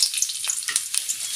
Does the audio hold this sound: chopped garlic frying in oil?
yes